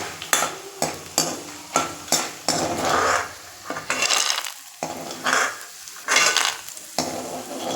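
Dried vathal fries in hot oil in a pan, a close crackling sizzle broken by repeated clanks and scrapes of a metal spoon against the pan, rhythmic and fairly loud with no voices.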